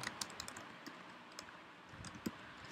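Keystrokes on a computer keyboard while entering text in a Linux terminal, a quiet, irregular run of soft clicks with a few sharper taps, close and without speech.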